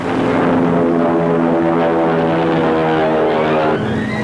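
A World War II carrier propeller aircraft drones loudly and steadily overhead, a continuous engine roar with a slight shift in pitch near the end as it passes.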